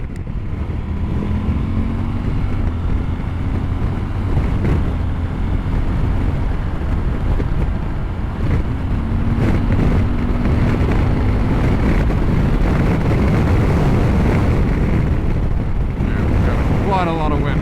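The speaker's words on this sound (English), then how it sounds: "Quite a lot of wind." Heavy wind buffets the microphone while riding a CF Moto 1000 MT-X adventure motorcycle, a loud, constant low roar with the engine droning underneath and its pitch rising and falling, a voice faintly present in the mix.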